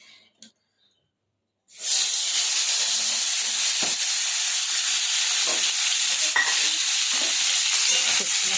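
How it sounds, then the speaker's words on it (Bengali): Soaked lote shutki, dried fish cut into small pieces, hits a hot pan and sizzles loudly and continuously after a brief quiet moment, with occasional stirring scrapes over the steady frying hiss. "এবার একটু ফ্রাই করে নেবো আগে শুটকি মাছটাকে"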